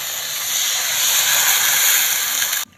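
Water poured into a hot pan of elephant-apple (chalta) chutney with salt and turmeric, giving a steady broadband hiss of steam and sizzle for nearly three seconds before cutting off abruptly.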